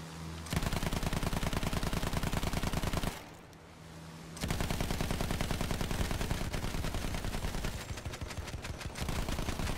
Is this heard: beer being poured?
no